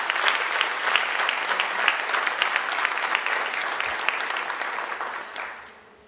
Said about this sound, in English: Let's give the graduates a round of applause.